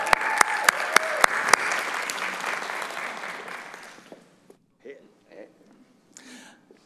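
A church congregation claps in loud, sustained applause with a few sharp single claps up front, fading out over several seconds into quiet murmurs and scattered voices.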